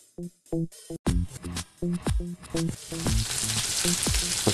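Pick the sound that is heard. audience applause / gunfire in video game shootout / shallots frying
shallots frying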